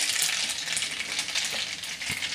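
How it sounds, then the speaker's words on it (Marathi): Mustard and cumin seeds splutter in a little hot oil for a dried chickpea-leaf dish, a dense, loud continuous sizzle with scattered popping crackles and no speech. "मोहरी छान तडतडली की"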